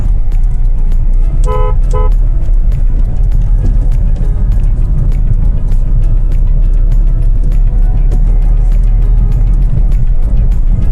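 A car horn gives two quick honks while driving, cutting briefly above a loud, constant road and engine rumble inside the moving car.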